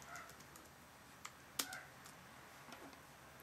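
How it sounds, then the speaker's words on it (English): A few sparse, faint key clicks come from a Logitech K810 illuminated wireless keyboard, with one sharper tap standing out over quiet room noise. "the keys are good for comfort as you type"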